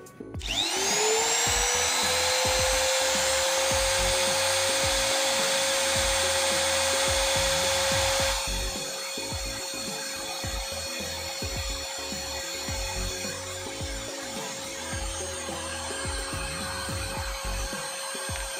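A Kyocera TR-50A electric trimmer runs at no load with a high, steady motor whine. It is loud at first, then drops to a slightly lower, quieter pitch partway through and keeps running alone to the end.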